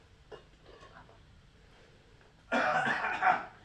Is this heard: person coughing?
yes